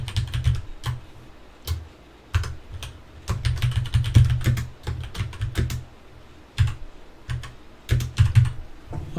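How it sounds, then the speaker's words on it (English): Keystrokes on a computer keyboard as a note is typed into an inventory column, with irregular bursts of quick clicks separated by short pauses, close and fairly quiet. "So I could type in a note here like"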